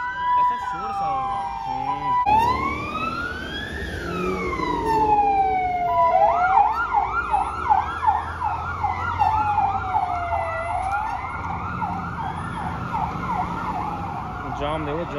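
Ambulance sirens wailing through a traffic jam after a road accident in Bishkek, Kyrgyzstan: a loud rising-and-falling wail, then a fast yelping pattern from a second nearby vehicle, over rumbling traffic with occasional talk.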